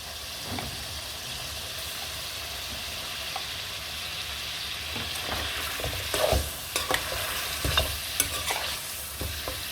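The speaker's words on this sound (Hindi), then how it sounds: "अच्छे तरीके से हमें इसको भून लेना है।" Beef trotters stirred and fried with yogurt in a pan, with a continuous sizzle and repeated scraping stirs that grow busier and louder toward the end.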